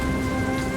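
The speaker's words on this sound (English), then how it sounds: "The rhythm of droplets on the pavement echoes through the city's desolate alleyways" Rain pours steadily onto city pavement in the video game World of Goo 2, a dense, even hiss of droplets, loud and close with no pauses.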